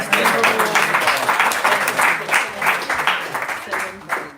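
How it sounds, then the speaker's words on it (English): A small gathering at a home program claps for the presenters, a moderately loud ragged burst of hand claps with a loose rhythm and some voices mixed in. "let's give big applause. for them"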